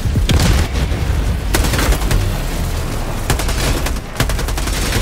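Helldivers 2 combat in which a grenade goes off: a loud boom amid a dense, continuous volley of gunfire and further blasts, with sharp bursts recurring across the whole stretch.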